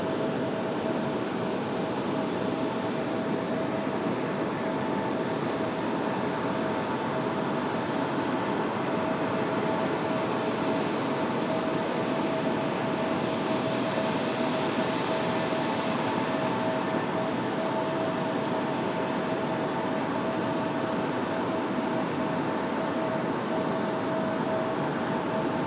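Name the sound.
Delta Boeing 737 taking off from Raleigh Durham runway 23 right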